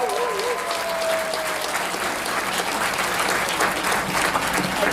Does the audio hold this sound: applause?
yes